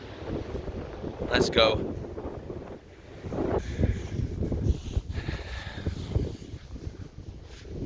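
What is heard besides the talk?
strong wind on coastal walk, Lindisfarne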